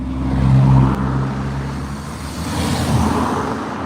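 A boy racers' car drives past on a road near the moors, a steady engine roar that swells and fades, with low rumbling tones and road noise.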